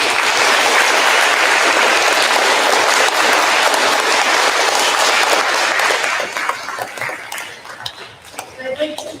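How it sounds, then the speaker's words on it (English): Loud, dense applause from an audience honoring teachers at a sixth grade awards ceremony fills the room, holding steady before thinning into scattered claps and some clatter toward the end. "Students, let's give them another round of applause."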